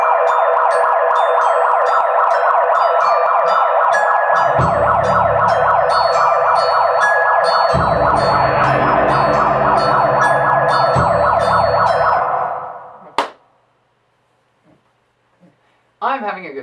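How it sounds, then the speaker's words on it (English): A wailing siren played back from a recorded megaphone, loud and sustained with a rapid rising-and-falling warble for about twelve seconds, some low rumbling underneath, then cutting out to near silence with a few clicks and brief sounds. "I recorded a siren from the megaphone"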